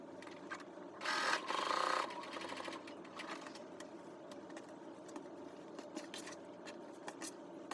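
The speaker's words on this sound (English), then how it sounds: "Sew it together to get a very long piece." A sewing machine stitches strips of jelly-roll fabric together into a long tote bag handle, whirring loudly in one short run of about a second before falling quiet to soft handling noises.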